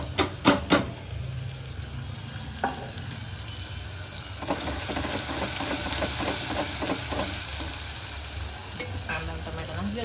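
Spices crackle and sizzle in hot oil for a Gujarati vaghar tempering before kantola vegetable curry, opening with sharp pops, then a dense steady frying hiss with scattered crackles and a few clinks, no voices.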